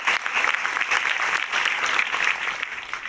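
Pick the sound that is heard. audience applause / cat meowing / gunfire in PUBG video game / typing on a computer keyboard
audience applause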